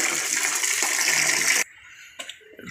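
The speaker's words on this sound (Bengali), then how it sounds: "এই যে মাংস ধোয়া হচ্ছে" Raw meat being washed in a basin of water: a loud continuous rush and splash of water for over a second and a half, then it stops abruptly, leaving a few small drips and sloshes.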